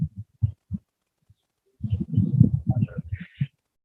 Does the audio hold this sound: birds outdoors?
yes